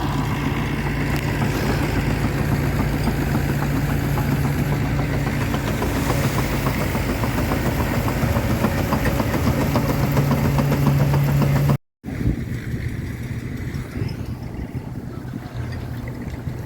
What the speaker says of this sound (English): P6 Fordson Major E27N. Nice P6 engine in it.